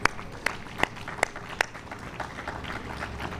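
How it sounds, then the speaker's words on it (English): A sparse round of applause from a small audience, opening with a few loud, evenly spaced claps near by before thinning into a quieter patter. "let's give another round of applause"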